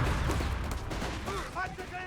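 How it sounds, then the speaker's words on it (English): Artillery shells and grenade blasts in Company of Heroes 3, a dense wash of continuous rumbling explosions and gunfire under a commentator's voice, with a few short tonal effects rising near the end. "More artillery being called in by the officer."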